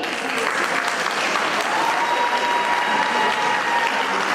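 An audience at a talent award ceremony held on 26 December 2021 claps steadily, a dense even applause that stays at the same level from start to finish.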